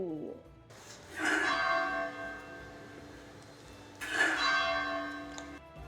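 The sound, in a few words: church bell ringing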